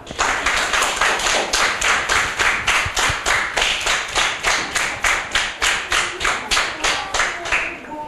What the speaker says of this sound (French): On applaudit Cassandra.